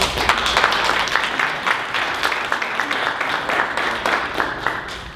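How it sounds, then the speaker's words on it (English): Investors club meeting audience gives a presenter a round of applause, steady dense clapping from a roomful of people filling the whole stretch, moderately loud and continuous. "can I ask that we give Gregory a round of applause"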